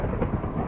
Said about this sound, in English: We can make the rain go away.